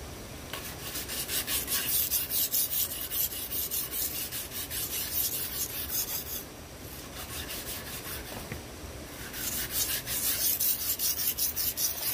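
A sickle blade is sharpened on a stone with long, steady rasping strokes, loud and close, repeating rhythmically with short pauses between passes and no speech.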